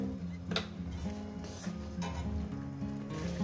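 Spice masala sizzles in a pan with salt added, cooked down before okra goes in; a steady soft sizzle runs throughout with a few light utensil clinks and scrapes, close and moderately quiet, no talking.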